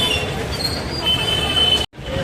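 Busy Tirupati railway station after rain, with a steady wash of train and platform noise, faint high squeals and crowd murmur throughout before a sudden brief dropout near the end.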